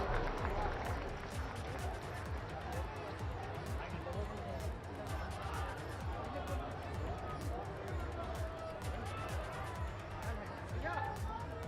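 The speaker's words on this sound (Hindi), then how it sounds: "आप सबकी जोरदार तालियों के बीच" Steady applause from a large crowd at a Prime Minister's speech in Prayagraj, dense and continuous, with a voice carrying over it through much of the stretch.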